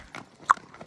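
A mare's hooves clip-clop on the ground, a few separate close hoofbeats with one sharp, louder strike in the middle.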